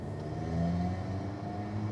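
A 2015 Alfa Romeo 4C Launch Edition's engine hums steadily from inside the cabin during a slow U-turn in a cul-de-sac, a smooth, even drone with no sharp rev spikes.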